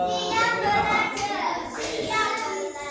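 Students in class clap agreed rhythm patterns together, a busy wash of many hands with a few sharper accented strikes, heard close with children's chatter underneath.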